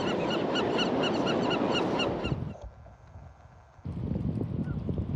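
Birds splash and bathe in fresh water on the Pacific coast, a dense rushing watery texture with rhythmic chirps or honks on top, briefly dropping quieter before resuming.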